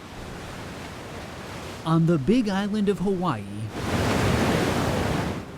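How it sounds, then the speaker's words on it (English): Ocean waves roll into Kealakekua Bay on the big island of Hawaii, a broad steady wash of surf that rises loud after someone speaks over quieter breaking water. "where the waves roll into Kealakekua Bay"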